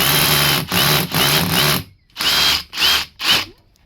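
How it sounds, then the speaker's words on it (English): A power drill bores pilot holes for pinning roof tiles on an extension roof, loud whining bursts in short repeated runs separated by brief pauses, close up. "this drill bit here just fits perfectly in between all"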